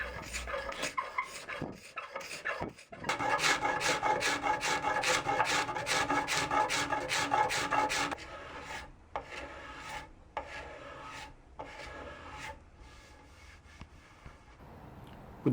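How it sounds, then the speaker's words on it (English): A rasp files rapidly along a yew longbow stave, with long rhythmic rubbing strokes up close, then slower, separate scraper passes shaping the belly and rounding the edges, with a few short pauses in between. "working with the rasp and a couple of different styles of scraper to round off all those edges, contour the belly and give the bow its final shape"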